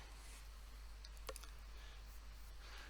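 A computer mouse clicks twice in quick succession, sharp and close, against a quiet background with a low steady hum.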